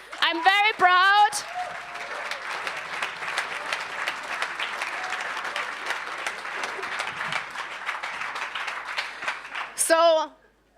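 An audience applauds at a startup weekend pitch final in Stuttgart, a steady dense wash of clapping lasting several seconds, with a brief voice speaking at the start and again at the end.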